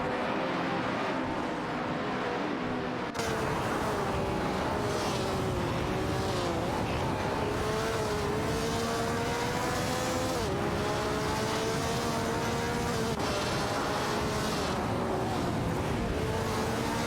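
Race cars scream past on a circuit in an AI-driven racing series, engines whining loudly and steadily with pitch rising and falling through gear changes as two cars battle closely for position, a dense continuous roar.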